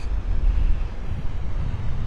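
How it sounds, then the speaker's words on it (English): Steady low, buffeting wind rumble fills the microphone throughout on a beach in North Naples, Florida, a broad roar with gusting surges and no voices. "Very, very windy here."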